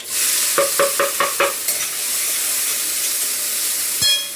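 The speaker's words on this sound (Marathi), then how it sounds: "तर आता कांदा थोडासा परतून घेते" Finely chopped onion sautés in a pan for a sandige vegetable dish, a steady close sizzle and hiss with a quick run of five rhythmic scraping stirs early on and another knock near the end.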